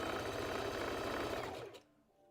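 Sewing machine stitching the band onto a Valentine's Day dress, a close, steady fast whir that runs continuously and then winds down and stops near the end.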